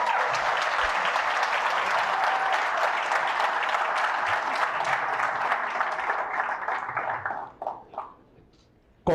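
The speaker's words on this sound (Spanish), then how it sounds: "Un fuerte aplauso." Audience applause during a live news analysis program: a loud, full burst of clapping that holds for several seconds, then breaks into scattered claps and dies away near the end.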